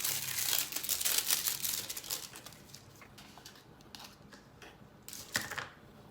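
Close, busy crinkling and tearing of plastic wrapping as a tightly sealed online shopping package is opened, dense at first and then thinning to scattered rustles.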